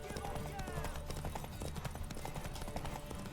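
A horse's hooves clip-clop at a steady gait in the video game Witcher 3, rhythmic thuds running under someone talking over game sounds.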